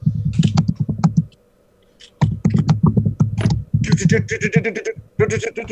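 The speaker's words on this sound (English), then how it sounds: "I hear you typing." Typing on a computer keyboard comes through as rapid bursts of clicking keystrokes, pausing briefly before resuming, heard close up over a voice chat with talking mixed in.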